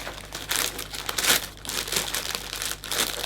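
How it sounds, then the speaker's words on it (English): Cellophane being folded and crinkled around a hand-tied Christmas gift arrangement, crackling in steady uneven bursts close by with no talk. "making sure that cellophane is even"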